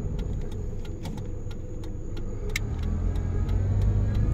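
A Pontiac Sunfire's engine runs steadily in a low, continuous rumble with a slight rise in level toward the end, heard close and alone with a few faint clicks.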